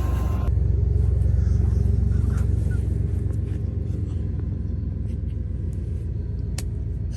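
A Toyota truck engine idles steadily, a deep, even rumble close by that holds constant throughout with no revving, along with a few faint clicks and knocks.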